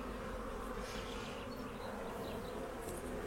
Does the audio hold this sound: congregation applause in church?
no